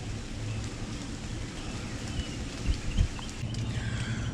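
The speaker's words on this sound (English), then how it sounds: "it's just a light rain right now." Light rain falls steadily throughout, a soft continuous hiss with a few louder patters near the middle, heard alone with no voices.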